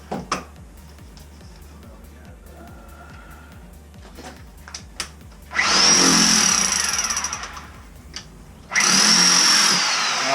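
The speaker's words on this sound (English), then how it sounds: "Start hitting this hole with the Hilti" A Hilti hammer drill bores a hole in a wall for a sump pump discharge pipe, with two loud, grinding, hammering bursts after a steady mechanical thumping background.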